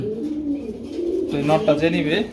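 Black racer pigeons at a pigeon farm give low, rolling coos close by while people talk over and between the calls.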